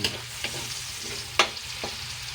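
Hotdogs fry in leftover oil from cooking ham, giving a steady close sizzle with a few sharp pops and spatters scattered through.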